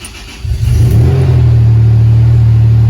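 A supercharged Toyota truck engine with a rusted-out exhaust cranks and fires up, then settles into a loud, raspy, rumbling idle close by.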